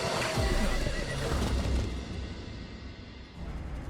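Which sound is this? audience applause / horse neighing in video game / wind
horse neighing in video game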